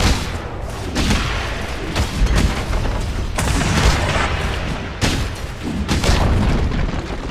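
A tower in the Dota 2 video game crumbles under attack amid dense, continuous booms and crashing blasts of battle, loud and unbroken for the whole stretch.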